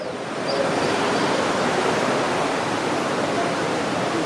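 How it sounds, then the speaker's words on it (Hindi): River rapids on the Sita river rush in a steady, loud, broadband roar that swells in after a brief quieter start and holds even throughout. "अभी रैपिड्स काफ़ी सारे हैं यहाँ पे"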